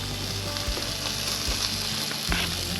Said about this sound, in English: I'm still cooking mine over here